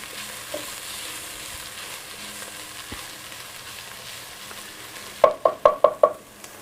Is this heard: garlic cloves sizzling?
yes